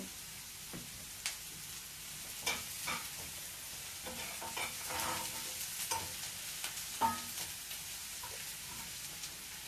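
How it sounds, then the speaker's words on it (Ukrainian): Food sizzles steadily in a pan while a utensil scrapes and stirs it in irregular strokes, close by. "І далі все помішаємо"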